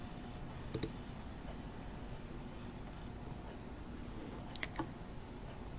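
A computer mouse gives two faint, isolated clicks, one early and one later, over a quiet background hiss.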